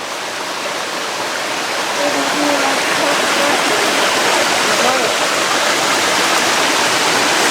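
Champney waterfalls pour in a steady, loud broadband rush of falling water that fills the whole span without a break, with faint voices murmuring underneath.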